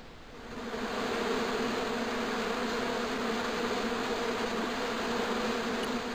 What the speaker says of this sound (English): There was a hornet's nest somewhere in that bush.